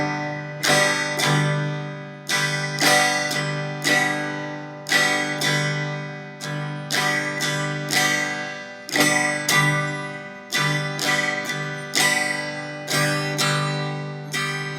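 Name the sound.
elaborate strumming pattern on acoustic guitar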